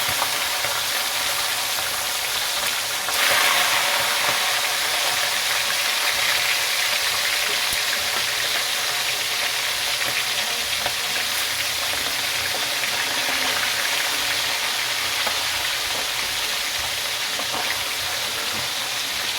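Steady, loud hissing sizzle of fish frying in oil in a pan, continuous and close, with faint bubbling and a few small pops throughout.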